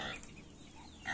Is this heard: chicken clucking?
yes